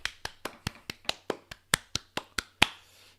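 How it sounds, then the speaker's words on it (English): About thirteen evenly spaced, crisp claps from a single pair of hands ring out close by, alone, with a slightly louder final clap. "Round of applause."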